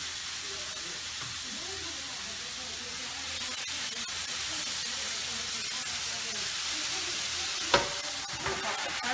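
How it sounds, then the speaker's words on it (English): Chicken sizzles on a hot grill pan with a steady, dense hiss and crackle throughout, close and fairly loud, with a faint clatter near the end. "That's the sound of chicken cooking."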